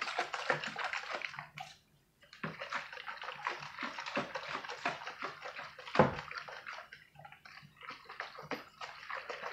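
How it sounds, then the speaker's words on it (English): A jar of lemon peels, glycerin and water is shaken by hand, giving rapid, close sloshing and splashing bursts with a short pause early on and a sharp knock midway. "I'm going to go ahead and give this a shake because I need to mix in the glycerin and the water."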